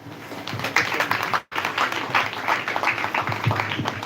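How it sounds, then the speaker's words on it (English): An audience at a public health program launch in Ogun State, a school-age deworming flag-off, gives a round of applause: steady, dense clapping from many hands, moderately distant, continuing with a brief cut partway. "let's give that round of applause"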